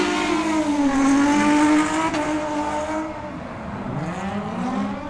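Drift cars at a Superdrift competition rev and race together, engines rising and falling in pitch, loud and close, with tire noise over a steady roar.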